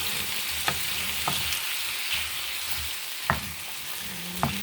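Soy sauce hitting a dish frying in a pan, giving a steady broad sizzle throughout, broken by a few soft clinks and scrapes of a utensil stirring, close up with no talk.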